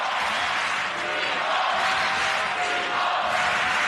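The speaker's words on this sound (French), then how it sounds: "Écoutez la foule." A crowd roars and cheers continuously at a Timo Boll versus Fan Zhendong table tennis match, a dense, loud wash of voices filling the hall, swelling slightly toward the end.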